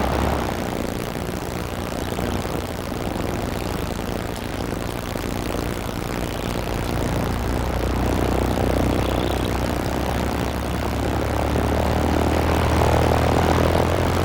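A small propeller plane departs near McNeil River, its engine drone a loud, continuous rumbling roar that swells gradually as it powers up, with no talking.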